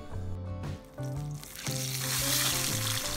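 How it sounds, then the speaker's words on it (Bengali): A fish head rubbed with salt and turmeric fries in hot mustard oil in a kadai, giving a bright sizzle that rises in the second half beneath a prominent melodic music track. "কড়াইয়ে সর্ষের তেল গরম করে আগে থেকে নুন আর হলুদ মাখিয়ে রাখা মাছের মাথাটা ভেজে নেব"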